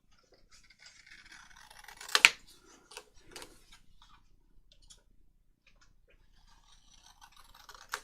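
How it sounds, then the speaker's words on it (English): Scissors cut paper around a template, giving quiet crisp snips and rustles, with one louder crunch near the start and more snipping toward the end. "And then cut around the template."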